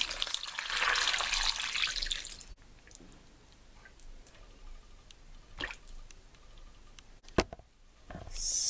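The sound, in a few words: water poured over oxtail in a bowl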